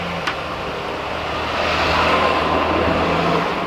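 A FedEx delivery truck's engine rumbles past nearby, its low drone swelling and holding steady over a few seconds, with no voices.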